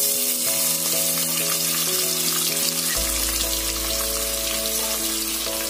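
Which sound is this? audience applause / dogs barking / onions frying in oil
onions frying in oil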